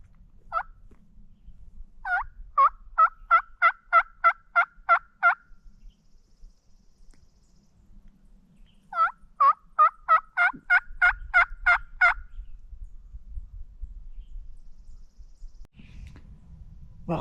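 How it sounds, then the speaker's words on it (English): A wild Merriam's turkey gobbles twice, each a loud rapid burst of rattling notes, separated by several seconds of quiet outdoor ambience on a hillside. "Well, I just heard a bird gobble,"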